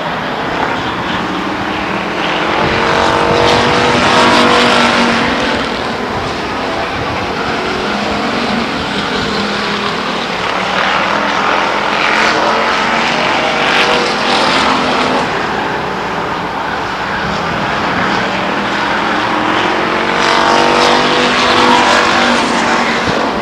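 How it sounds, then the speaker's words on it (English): Race cars circling Stockton 99 Speedway under caution at about 60 miles an hour, a loud continuous engine roar that swells and fades as cars pass, heard alone without talk. "Motors on around the racetrack."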